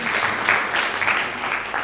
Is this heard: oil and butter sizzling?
no